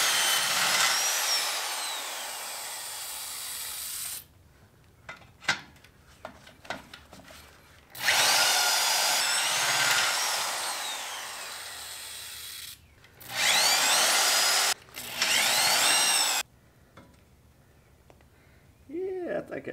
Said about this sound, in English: We'll just take our cutoff wheel, zap, zap, zap, zap.